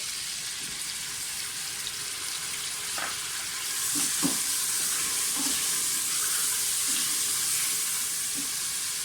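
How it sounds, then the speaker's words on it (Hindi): Onions fry with mutton in a pot, sizzling loudly and continuously, with occasional clunks of stirring. "प्याज को बहुत अच्छी तरह से भूनें कि प्याज का कलर जो है वो चेंज हो जाए।"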